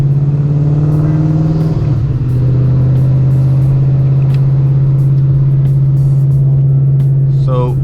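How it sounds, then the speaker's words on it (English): A loud car engine on drag radial tires drones steadily throughout, with a brief dip and change in tone early on, then a constant deep hum. "So everyone knows my car is loud."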